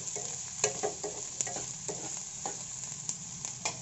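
Green chillies, curry leaves and onions fry in a pan for a tomato curry, a soft steady sizzle broken by frequent light spatula stirs and scrapes, close but fairly quiet.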